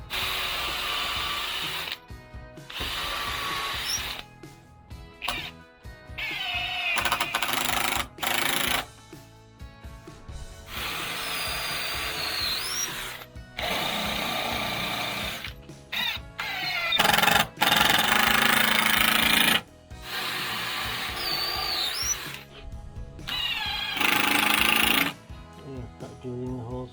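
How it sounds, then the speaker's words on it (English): A power drill with a long bit bores holes for a stair bracket during a staircase rebuild, running in repeated whirring bursts of several seconds separated by short silences, close and fairly loud. "Start drilling the holes for the bracket."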